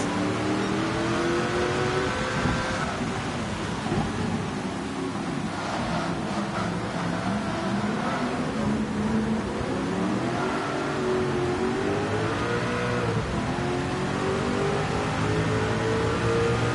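Race cars speed along wet straights in Gran Turismo 7 during a rainy GT World Series Nations race, including a fast Nissan, with a continuous loud engine drone, rising and falling revs, and a spray-like hiss from the rain throughout.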